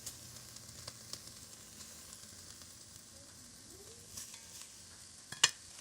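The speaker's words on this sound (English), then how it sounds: "Then we'll add our rabbit back to the pan." Rabbit pieces fry with onions and garlic in a pan, a soft, steady sizzle with faint occasional stirring clicks and one brief sharper clatter near the end.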